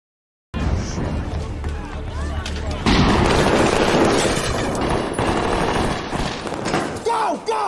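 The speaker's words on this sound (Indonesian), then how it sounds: "Terjadilah baku tembak-tembakan." A gunfire shootout at a bank robbery in a film plays as dense, continuous volleys of shots. The shots crackle loudly with a noisy rumble behind them for several seconds, and there is a short silence before the burst begins.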